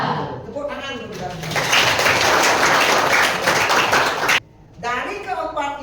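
Students in a vocational school culinary classroom applaud together, a dense burst of clapping that swells after a brief opening and runs steadily for several seconds before stopping abruptly, with voices around it at the start and end.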